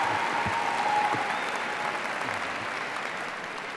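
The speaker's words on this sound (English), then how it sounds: "Give them all a round of applause." Broad, steady applause fills a university commencement ceremony, a large crowd clapping evenly that tapers off slightly toward the end.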